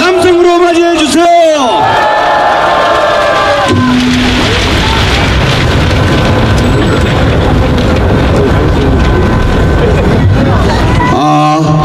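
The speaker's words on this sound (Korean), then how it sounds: "함성으로 맞이해 주세요." A loud crowd roars and cheers in a large space, welcoming a former vice minister onstage, a dense wash of voices sustained throughout, with a brief amplified voice near the start.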